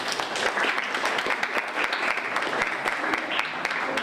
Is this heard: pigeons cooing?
no